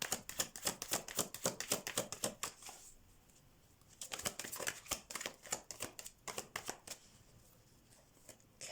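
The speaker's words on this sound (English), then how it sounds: "Let's shuffle your cards, see what's coming out." Tarot cards being shuffled up close, rapid rhythmic riffling bursts repeating several times with short pauses between them.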